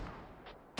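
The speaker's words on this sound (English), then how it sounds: "Mortars coming in onto up orchard." In the video game Squad, two faint, distant mortar impacts thud in quick succession, the second one louder and sharper, with no talking.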